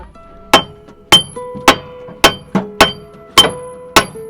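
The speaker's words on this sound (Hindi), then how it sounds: "अच्छा ठीक है छेनी छेनी हाँ करते हैं। छेनी से।" A chisel is struck repeatedly with a hammer, giving about nine sharp, ringing metallic blows at a fairly even pace, loud and close with no talking.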